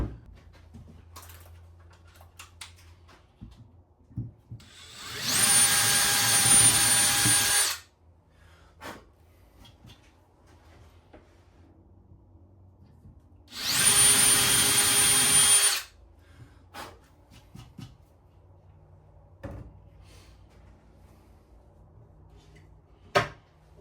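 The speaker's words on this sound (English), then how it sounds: "That's where we're going to drill our hole." A power drill boring a hole into the side of a wooden drawer box for a floating nightstand, two sustained bursts of a few seconds each, loud and close, separated by quiet handling noises.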